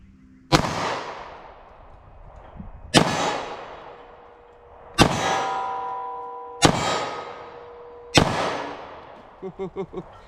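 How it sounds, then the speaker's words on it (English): A 9mm handgun's shots strike a steel silhouette target at 15 yards: five loud, sharp metallic clangs spaced about two seconds apart, each leaving a long, bright ring that slowly decays. A few softer knocks follow at the end, with no talking. "So 9mm, I'm just going to shoot my steel silhouette, try for some headshots, 15 yards, see what happens."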